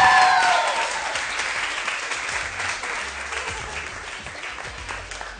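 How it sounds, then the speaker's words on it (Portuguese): Studio audience applause on a TV entertainment show, a dense wash of clapping that starts loud right after a voice and gradually fades. "uma salva de palmas"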